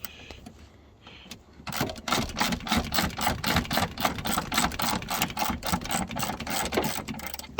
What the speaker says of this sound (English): These are all plastic screws, so they back out really quick.